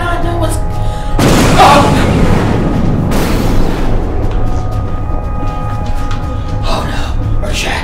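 Movie explosions erupt in two loud, close blasts a couple of seconds apart, each with a broad roaring rumble that trails off, while voices sound faintly around them.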